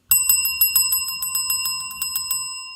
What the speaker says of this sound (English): Can't give you enough bells for that.